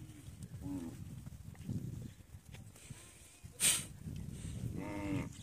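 A bull moos twice, once near the start and again near the end, in a cattle herd near the India–Bangladesh border. A bright bird-like chirp briefly cuts in between the two calls over steady background noise.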